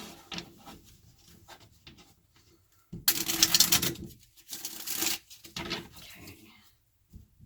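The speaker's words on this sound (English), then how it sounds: "Let me shuffle one more time." Tarot cards being shuffled up close, with soft rustles giving way to two louder riffling bursts of flicking cards in the middle.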